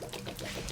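Water draining from the plug of an RV water heater, a faint, steady pouring trickle.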